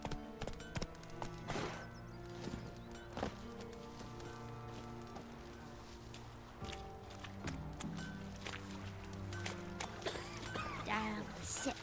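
A horse in The Witcher 3 video game, hooves clip-clopping in an uneven rhythm over ambient game sound and music, with a person talking intermittently over it.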